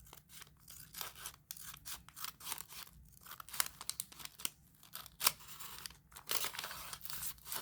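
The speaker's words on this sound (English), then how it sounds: "Just cut like these little bits sticking up. Just kind of cut them a little bit." Scissors snipping the ragged top edges of a paper bag, a run of quick, crisp cuts with paper crinkling between them, close and fairly quiet with no talking.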